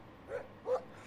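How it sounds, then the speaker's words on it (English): A dog in the video game Life is Strange 2 gives two quick, fairly soft barks about a third of a second apart, with no talking over them. "No barking."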